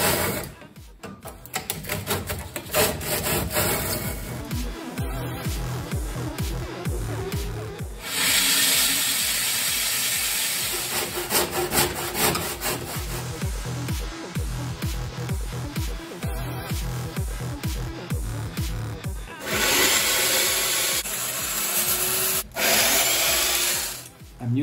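Hardened expanding polyurethane foam on a custom simulator seat is trimmed with a power tool, giving long, close, rasping runs of cutting noise broken by brief pauses and handling sounds.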